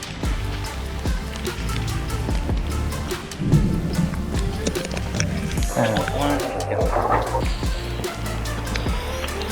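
Steady rain pouring outside a home near a drain, a dense, continuous hiss and patter with occasional heavier splashes and low rumbles throughout.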